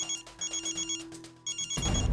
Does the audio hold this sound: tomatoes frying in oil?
no